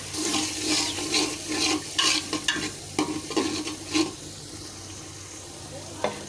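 Garlic, cumin, turmeric, coriander powder, chili powder and green chilies fry in a pan for a mixed vegetable curry, with close, vigorous stirring scrapes over a wet sizzle that eases into a quieter simmer.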